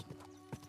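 A horse's hooves in the medieval video game Kingdom Come: Deliverance II, a couple of soft clip-clop strikes over a faint steady background, no talk.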